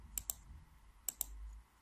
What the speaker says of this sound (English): I can select field by field by clicking